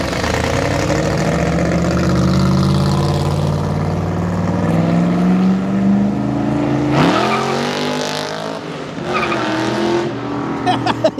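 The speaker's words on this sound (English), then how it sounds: "We got the nasty sounding Cobra out for the exit." A loud Cobra sports car exits onto a Houston street during a Corvette street takeover, its engine note rising steadily before a sharp revving burst with tire squeal, close by amid crowd noise.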